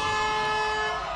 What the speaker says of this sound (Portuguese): Buzinou, parou.